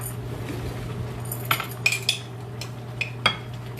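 Metal spoon clinking against a cooking pot of potatoes, several sharp taps and scrapes in a quick irregular cluster over a steady low kitchen hum, close and moderately loud with no talking.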